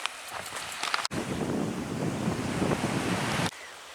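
Surf washes onto a beach on the Solent shore at Hill Head in Hampshire, a continuous rushing wash mixed with wind buffeting the microphone.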